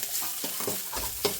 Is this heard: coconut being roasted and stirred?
yes